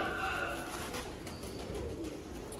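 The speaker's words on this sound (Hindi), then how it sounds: "बच्चा है बटेरा सियालकोटी शेखा वाला बटेरा टाइप बच्चा है" A Sialkoti pigeon chick coos softly against a steady background hiss, the short call heard close over just a couple of seconds, with no talking.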